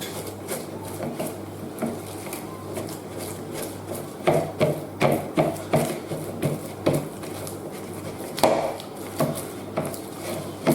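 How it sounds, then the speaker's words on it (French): Softened butter being worked in a bowl for cookie dough, a series of close scraping, rubbing strokes against the bowl that come in irregular bursts, growing more vigorous partway through, with no talking. "Donc là, je travaille mon beurre en pommade."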